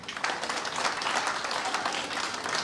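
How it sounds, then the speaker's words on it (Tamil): A crowd claps steadily at a book launch event, producing a dense, sustained round of applause that stays fairly loud and even throughout. "அவருக்கு ஒரு கைத்தட்டில் கொடுப்போமே"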